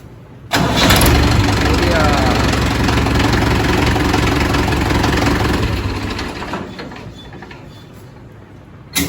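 An engine cranks and catches abruptly, then runs at a loud, steady idle that slowly fades toward the end, with people talking over it.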